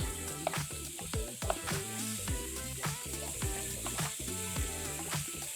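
Steady, loud sizzling of stuffed beef rolls frying in a pan, with occasional clinks and scraping sounds over the constant crackle.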